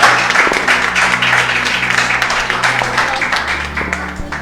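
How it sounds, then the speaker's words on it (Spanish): Congregation applause at a Messianic church service, a dense continuous wash of clapping that stays loud and steady throughout, with a low sustained tone underneath. "dale un aplauso a ese netzer"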